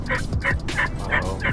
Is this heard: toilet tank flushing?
no